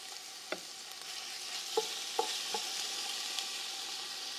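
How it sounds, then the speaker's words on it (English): Beef browns in a crowded pan for stew, giving a soft, continuous sizzle broken by a few sharp clicks and scrapes of stirring, with no talking. "I'm gonna finish browning the meat"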